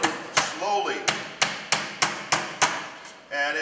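Hammer blows fold down a Pittsburgh lock seam on a small piece of HVAC sheet metal, about nine sharp, close metallic strikes at a steady rhythm, with brief ringing between hits.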